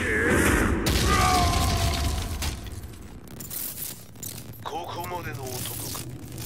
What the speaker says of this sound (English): explosion confirmed at the Mishima Dojo.